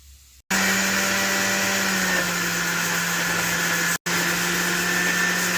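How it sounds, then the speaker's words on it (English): Kitchen blender whirring loudly and steadily as it purées ginger, scallion, garlic, onion, pepper and thyme into a Jamaican jerk seasoning, with a brief cutout near the start and another shortly before the end. "So I'm going to add them to the blender like this."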